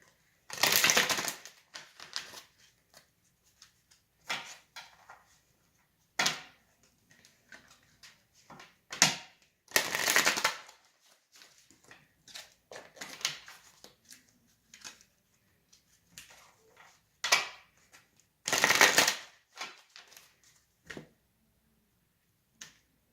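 Romance Angel Oracle cards being shuffled hand over hand, a series of crisp papery slaps and riffles in irregular bursts with quiet gaps, close and alone.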